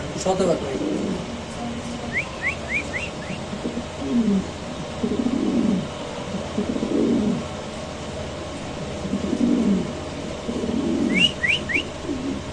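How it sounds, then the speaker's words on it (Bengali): A male fancy pigeon gives several low, throaty coos in repeated bursts at close range, with faint chirps from other birds and a voice talking at times. "নরের ডাকটা আমরা একটু সময় দেখাচ্ছি আপনাদের"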